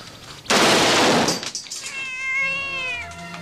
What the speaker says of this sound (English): Where the fuck's my mangy cat?